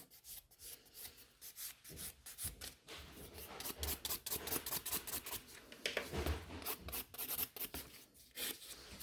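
A nail file rasps quickly over gel nails during a gel nail maintenance session with nail tips, making close, steady scratchy strokes in short repeated bursts.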